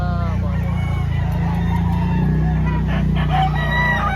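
Roosters and chickens of the Golden Boy, Sweater and Gilmore breeds crow loudly and close, with overlapping cock-a-doodle-doo calls and clucking filling the whole stretch.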